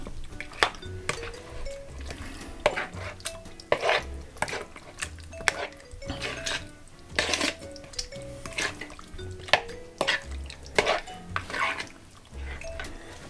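Chicken wings tossed in a sesame sauce to coat them, heard as close, wet, sticky stirring and clinking against a bowl in irregular bursts, with no talk.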